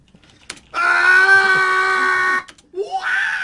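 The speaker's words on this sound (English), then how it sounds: "This is like hundreds of us screaming." A recorded bank of screams made for a cartoon show, with a long, loud, sustained shrieking scream followed by a shorter rising scream after a brief pause.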